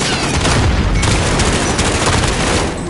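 Dense, sustained video-game gunfire fills the whole stretch, a loud continuous fusillade of overlapping shots and booms in a busy combat scene.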